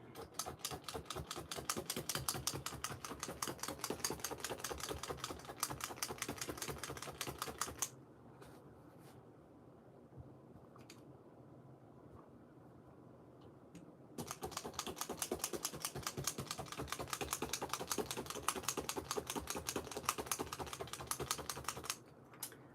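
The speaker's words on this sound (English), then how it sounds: "the nicest sound it's from one needle when you just stab" Rapid, regular stabbing of a felting needle into wool, crisp close ticks in two long bursts separated by a quieter pause.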